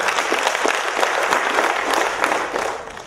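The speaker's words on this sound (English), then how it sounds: "Can we clap for the cloner?" An audience breaks into applause for the cloner, a dense, even wash of many hands clapping together, loud and close, holding steady for about three seconds before tapering off at the end.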